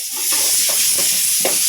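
Onion, tomato and curry leaves sauté in a pan for tapioca biryani, with a loud, close, constant sizzle and a few stirring scrapes.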